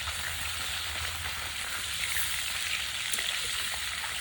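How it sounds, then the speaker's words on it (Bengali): A steady, dense sizzle of katla fish pieces and head frying in hot oil in a wok, loud and continuous without pauses or voices. "কড়াইতে মাছ ভাজতে দিচ্ছি"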